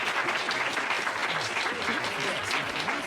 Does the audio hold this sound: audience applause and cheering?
yes